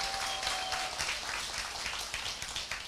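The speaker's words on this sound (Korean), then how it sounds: "이렇게 생각하시는 분은 본인에게 큰 박수 보내주시기 바랍니다." A seminar audience at a Korean business talk gives a continuous patter of applause, fairly faint and distant, lasting about three seconds.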